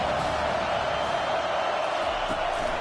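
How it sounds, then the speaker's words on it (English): A college football stadium crowd at Ohio State versus Wisconsin roars for the defense on third down, a dense, steady wash of cheering that holds at the same loud level throughout. "Decibels rising as the crowd gets behind this defense on 3rd down."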